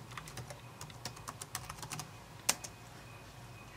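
Computer keyboard keys tapped in a quick, irregular run while entering an email address and password, with one sharper louder keystroke near the end; close and clear with no talking.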